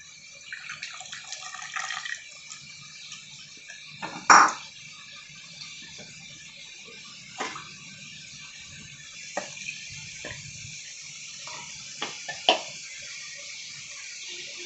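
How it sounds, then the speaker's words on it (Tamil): Tamarind water is poured into ground chili masala while making prawn curry: a faint, continuous liquid trickle with a few sharper drips and clinks scattered through, close by and with no talking. "புளி தண்ணி கூட இதிலே சேர்த்துக்கோங்க."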